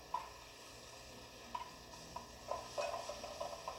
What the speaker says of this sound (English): You simply want to sear this to lock in all the pores